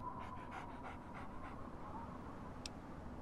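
A dog in Fallout 3 pants quickly in a steady rhythm of short breaths, fairly close, over a low background rumble, with a brief whine near the end.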